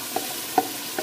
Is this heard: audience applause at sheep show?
no